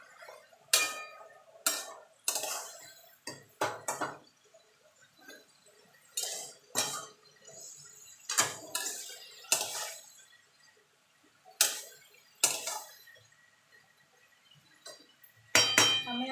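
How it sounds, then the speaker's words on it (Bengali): Shapla (water lily stems) stirred in a pan with a metal spoon, producing sharp, irregular scraping clinks against the pan, in clusters with short pauses between them, fairly close and without talk. "এবার এটাকে মিনিট 3-4 একটু নেড়ে চেড়ে নেবো।"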